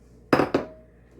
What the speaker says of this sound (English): I'm going to switch over from a whisk to a spoon to mix it